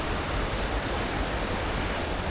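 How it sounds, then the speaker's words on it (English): Steall Falls, a waterfall in the Scottish Highlands, pours with a steady, dense rushing roar, unbroken and fairly close, with no voices over it. "Steall Falls just coming into view"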